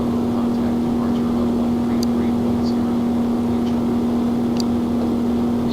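Steady droning engine hum of a Cessna aircraft in the X-Plane 11 flight simulator game, a constant tonal whine with no change in pitch, heard continuously under faint background chatter.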